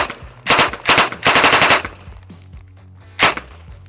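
A machine pistol fires rapid bursts at targets: three loud, close bursts in quick succession, then a pause with faint ringing before one short final burst.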